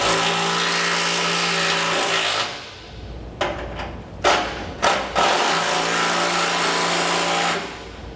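A power tool fitted with an 11/16 socket tightens bolts on a heavy-duty Dexter single-axle trailer suspension. It gives a loud continuous whir, then several short impact bursts separated by pauses, then another sustained run.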